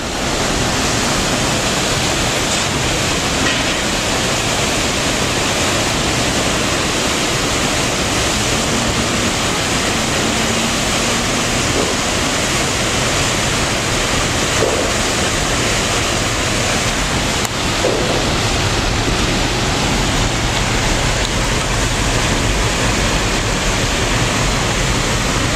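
Churning wake water behind a ferry leaving Kingston, Washington, a loud, steady rushing roar of foaming, bubbling water with no break, heard up close with no voices.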